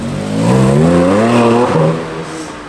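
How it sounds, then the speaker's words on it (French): A Porsche GT4 RS drives past on a Monaco street during the Formula 1 Grand Prix weekend, its engine note rising and sweeping by near and loud, then fading after about two seconds. "Très beau GT4 RS qui passe là."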